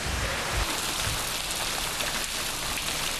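Steady, dense rain pours across a wide lunar-like film landscape, a continuous hiss with low rumbling underneath, close and full throughout with no voices.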